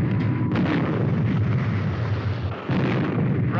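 A weapon fires with a heavy, sustained explosive roar, loud and continuous with rumbling low end throughout, in an old adventure serial involving Supercar.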